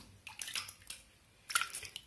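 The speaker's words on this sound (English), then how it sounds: "just gently ladle the liquid in here" Banana wine is gently ladled through a single layer of straining cloth, making quiet wet splashes and drips in two soft bursts with a brief pause between them, with no talking.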